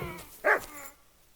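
A single short bark from a dog in the video game Kingdom Come Deliverance 2, fairly quiet and abrupt, followed by a soft trailing whine, with no talking.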